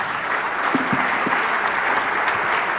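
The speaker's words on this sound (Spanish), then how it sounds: "les pido un fuerte aplauso a nuestros panelistas" A large audience at a panel discussion applauding steadily, dense clapping that holds at an even level throughout with no pauses.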